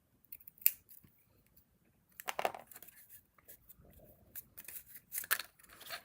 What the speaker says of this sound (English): if it ends in half a tab, just snip it